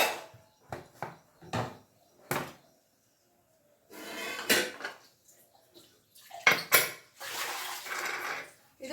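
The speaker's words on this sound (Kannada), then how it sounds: "ಈಗ ಕುಕ್ಕರ್ ಮುಚ್ಚಳ ಮುಚ್ತಾ ಇದ್ದೀನಿ" A metal pressure cooker lid is closed over a cowpea masala curry in a home kitchen, a string of sharp close clanks and knocks, then scraping and rattling handling sounds, with a voice talking alongside.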